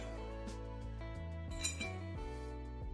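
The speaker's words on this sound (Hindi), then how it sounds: "जार ले लेंगे" A glass jar is picked up in a home kitchen while cooking chole, giving a few bright clinks and knocks over a steady tonal background hum, close and fairly quiet.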